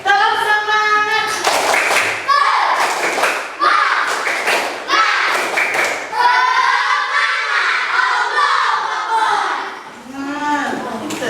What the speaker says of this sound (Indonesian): Coba tepuk semangat dulu lah.